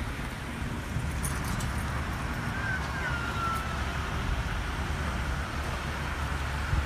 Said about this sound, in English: Pardon the car noises.